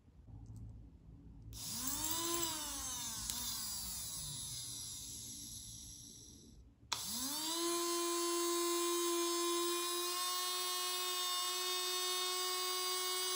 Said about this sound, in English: Now I will turn this DC motor with my power supply.